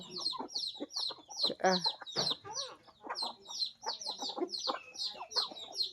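Chickens and a turkey on a Lao farm cluck and squawk in busy overlapping bursts, close and fairly loud, with a rooster-like call mixed in and a voice faintly underneath.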